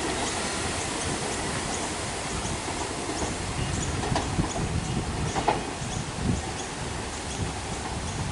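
Melbourne suburban train at Mount Waverley station, a steady broadband rumble and hiss of the passing carriages with faint wheel squeals and clanks, fairly close and continuous throughout.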